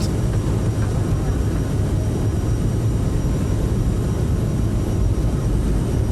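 A CRJ900 airliner's jet engines spool up to takeoff thrust in Microsoft Flight Simulator 2020, giving a loud, steady, broadband roar with a low rumbling drone. It holds constant for six seconds and no voices are heard.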